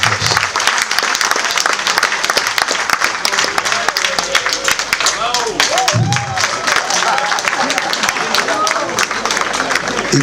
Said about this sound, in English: So please give him a resounding round of applause.